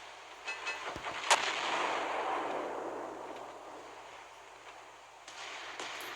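Naval artillery shells firing in the Naval Creed video game, a booming report followed by a long rumbling roar that slowly fades, with a few sharper cracks scattered through it.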